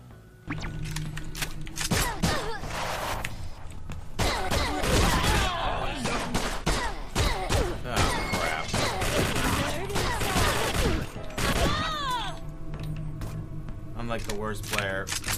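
Gunfire in the post-apocalyptic pub crawler game WASTED: dense, loud bursts of rapid shots and clattering mechanical impacts packed across most of the stretch, with short pauses and a voice talking over parts of it.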